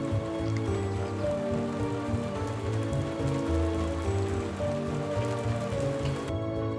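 Rain falls steadily under the arcaded porticoes of Bologna, Italy, a continuous close patter on hard surfaces mixed with a tonal background hum throughout.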